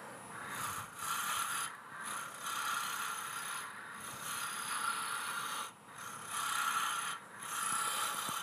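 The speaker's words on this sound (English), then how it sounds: "I'm gonna sand again." Sanding a wood-turned bowl leg by hand: a close, steady rasping rub in long strokes with brief pauses between passes, no talking.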